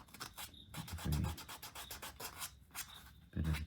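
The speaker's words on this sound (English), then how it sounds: "you get these little sanding pads just to try and clean up" A small sanding pad rubs back and forth along the edges of a leather keyring, giving close, quiet scratchy strokes in an uneven rhythm with a few heavier passes.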